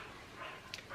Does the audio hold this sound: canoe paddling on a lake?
no